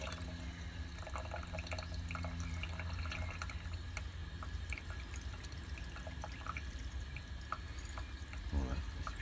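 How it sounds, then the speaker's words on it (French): Clean water rinses the cells of an old emptied battery, a continuous gentle splashing and dripping flow, moderately close, with small handling sounds and a faint gurgle near the end. "Nous allons maintenant nettoyer les cellules à l'eau claire."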